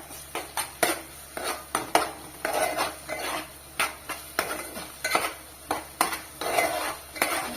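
Curry with turmeric and ginger garlic paste being stirred in a pot, rhythmic scraping strokes of a metal spoon against the pan over a faint sizzle, close and steady, with no speech.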